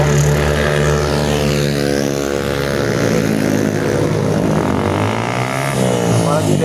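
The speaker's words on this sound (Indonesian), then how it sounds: "Apalagi dengan kendaraan motor yang knalpotnya berisik, ampun, suara saya pasti akan tertutup sama mesinnya knalpot." Busy road traffic on the Cianjur–Cipanas route, with cars and motorcycles with noisy exhausts passing close and loud, a steady engine roar with pitch shifts as vehicles go by.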